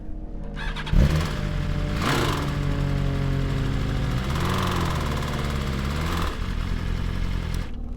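A BMW M1000RR superbike engine being restarted after a suspected failure, cranking then catching into a loud, uneven running note with revs rising and falling, close by.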